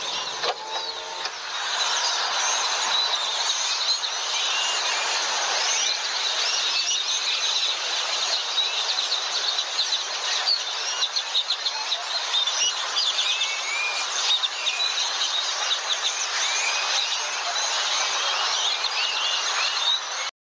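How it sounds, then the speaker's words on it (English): Dense, continuous chorus of a huge flock of birds on power lines chirping and chattering at once, a loud steady wall of calls with no pauses. "almost 1 million birds just on the power lines. Do you all hear that noise? Those are all these birds."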